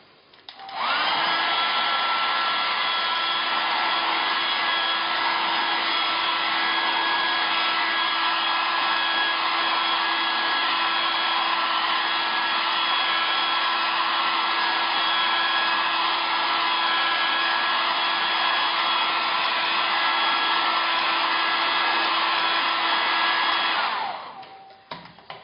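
An electric hair dryer held over tempered chocolate to keep it warm blows with a steady, loud whine and hum for about 23 seconds, switching on and off cleanly with no talking.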